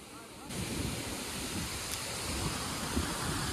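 The Shiv (Amrut Dhara) waterfall pours as a broad, steady roaring rush of water, loud and close, with some wind noise on the microphone.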